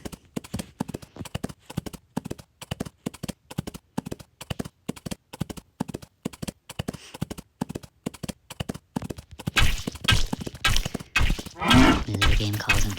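Cattle bulls in the video game Utopia: Origin run with rapid, evenly spaced hoofbeats, a steady galloping clatter that swells into louder, heavier thuds and lowing near the end.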